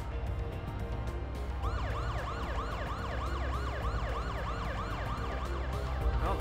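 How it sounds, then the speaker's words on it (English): A fast, repeating wail siren from the video game Parasite Eve starts after a low engine drone and keeps cycling loudly over the steady rumble. "I don't think the siren and lights are necessary."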